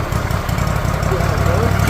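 Engine of a Wood-Mizer LT40 sawmill under restoration runs steadily and is revved up, a continuous low throb that swells slightly toward the end, heard close and alone.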